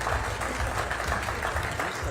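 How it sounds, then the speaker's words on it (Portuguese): A group posing for a photo at a business round-table event bursts into dense, continuous applause, close and loud, with voices mixed in. "Faremos mais uma foto agora com todos aplaudindo."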